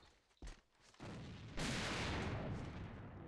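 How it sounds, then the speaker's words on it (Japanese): A grenade detonates in the first-person shooter AVA: a sharp crack, then a second burst and a loud, sustained blast with rumbling debris that fills the rest of the moment, no talk over it. "手榴弾を使うぞ。"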